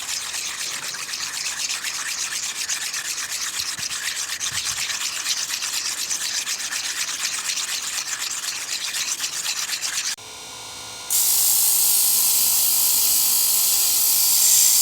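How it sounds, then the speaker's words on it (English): Wet polishing of a meteorite stone with graded polishing pads, a steady abrasive rubbing and whirring that runs continuously, then drops briefly and returns louder and harsher near the end. "I use 3 polishing pads, 100, 200 and 300,"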